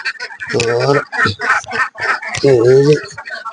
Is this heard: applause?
no